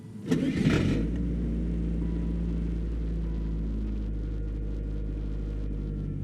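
A Saturn car engine cranks briefly and catches after a spark plug and wire change, the loud starter burst giving way within a second to a steady, even idle that holds close and alone.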